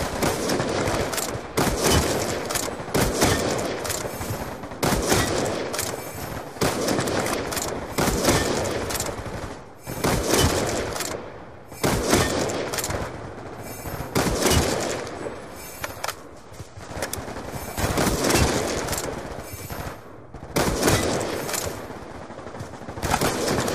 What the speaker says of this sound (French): Autorisation d'ouvrir le feu.